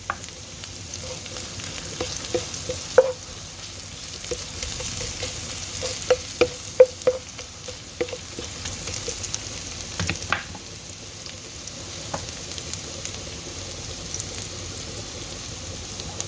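Ginger sizzles and fries steadily in a pan while being cooked for a chicken curry, with a spoon scraping and clicking against the pan at irregular intervals; no one talks.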